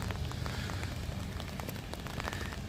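Light rain falling at night on the streets of Futakotamagawa, Tokyo, a steady soft hiss with scattered patters of drops, constant and close, with no voices.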